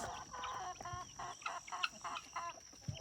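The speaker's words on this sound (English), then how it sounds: "And the chickens." Chickens cluck in a steady run of short, busy calls, fairly close by in a garden, with no talking over them.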